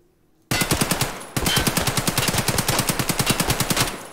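An AK-74 rifle in Escape from Tarkov fires a long full-auto burst, a steady rapid stream of loud cracks. The burst breaks off briefly after about a second, then runs on for nearly three more seconds with no voices over it.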